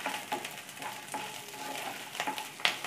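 Ginger, chillies and tamarind sauté in sesame oil in a pan for a pirandai pickle, giving a steady close sizzle with a few louder stirring scrapes and bursts, no voices.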